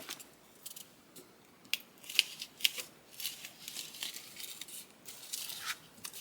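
Scissors cutting a strip of plastic, a series of quiet, sharp snipping and crinkling sounds, close and irregular, with no talking.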